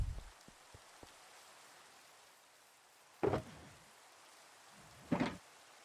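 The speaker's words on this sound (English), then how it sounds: "Rain at sunset." Rain at sunset in the survival game The Citadel: a soft, steady patter of rainfall under a few light ticks, with two louder rumbling bursts rising partway through.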